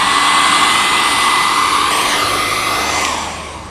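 A hair dryer blowing on a watercolour painting, a loud, close, steady whooshing roar with a whining motor tone that drops slightly in the last second.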